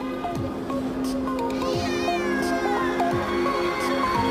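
A cat meows several times in a row, bright, near and fairly loud, each call rising and falling, over faint steady background noise.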